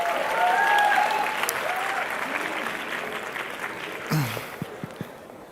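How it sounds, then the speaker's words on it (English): Applause at the PES Election Congress 2024 for Enrique López Rujaro, President of the Young European Socialists: a broad, steady crowd clapping that gradually thins, with a few voices calling out over it near the end. "Also a big applause for Enrique."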